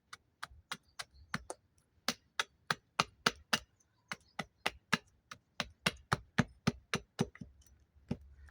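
A small wooden spoon being carved from hard wood, the blade knocking away excess along the outline in a steady series of about thirty sharp, close chops with brief pauses between bursts.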